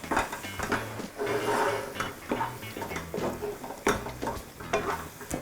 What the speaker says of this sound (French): Et on mélange le tout.